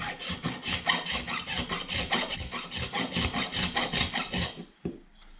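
A hand file is stroked back and forth across an aluminium lip on a mirror mount, giving a steady run of about a dozen loud, close rasping strokes that stop abruptly near the end.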